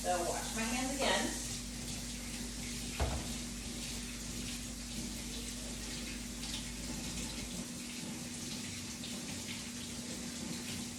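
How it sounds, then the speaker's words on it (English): Tap water running into a sink during handwashing in a home kitchen, a steady close hiss and splash with a brief clatter early on and a faint hum underneath. "So wash my hands again."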